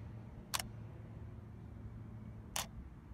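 A DSLR camera shutter, fired by a Meike MK-80N3 timer remote, clicks twice about two seconds apart, sharp and brief against a quiet room with a faint low hum.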